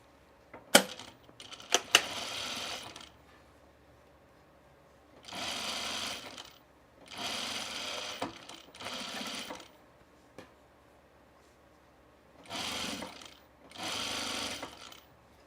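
Sewing machine stitching a side seam on linen summer pants, running in four separate bursts of a few seconds each, with a couple of brief clicks and taps at the start; no voices.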